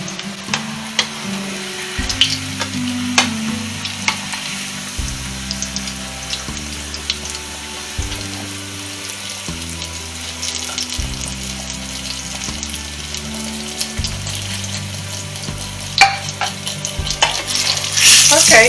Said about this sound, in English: Let me finish frying these ones so we can move to the next step.